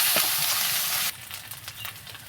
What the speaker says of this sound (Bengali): আধা বাটা করে এটা আমি একটু ভালো করে কষিয়ে নেব